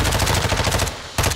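Rapid gunfire from a Warzone 2 match, including shotgun blasts, comes as a dense run of loud, close shots for about a second, breaks off briefly, then resumes.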